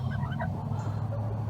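Farm chickens, a frizzle rooster with satin hens, clucking and calling in short rising and falling notes, fairly close over a steady low background hum.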